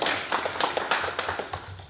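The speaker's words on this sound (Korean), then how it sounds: "박수 한번." Short burst of audience clapping at a Korean medical volunteer service event, several hands patting in quick overlapping claps at moderate distance, fairly steady across the moment with no voices.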